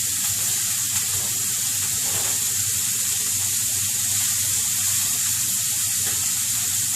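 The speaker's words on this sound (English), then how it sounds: "you're gonna cook that onion until it starts turning transparent" Onion fries in a pan with a loud, steady, hissing sizzle that holds constant throughout, close to the listener with no voices.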